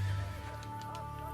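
A horse in Assassin's Creed Brotherhood gives a short, close neigh lasting about a second, with a steady game background beneath it.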